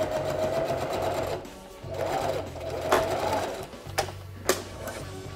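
A sewing machine stitches a jacket seam in loud bursts of rapid mechanical whirring, stopping and restarting several times, with a few sharp clicks between runs.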